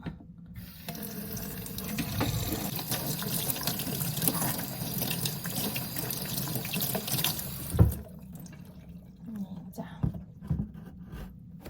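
Tap water runs steadily into a sink as chili seedlings are rinsed clean of pests, the stream breaking off near the end into scattered splashes and drips.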